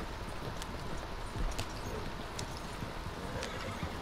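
Horse hooves clip-clop steadily as the animal pulls a cart, with a few faint snorts or whinny-like sounds mixed into a continuous outdoor rumble, close and fairly loud throughout.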